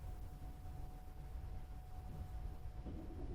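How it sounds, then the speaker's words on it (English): Train rolling along in Trans Siberian Railway Simulator, a steady low rumble with a faint constant tone above it, slowly moving with no voices. "Because it takes a while to get the train going."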